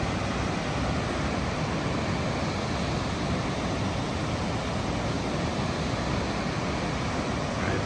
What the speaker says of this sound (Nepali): यस्तो छन् नाग्रा फल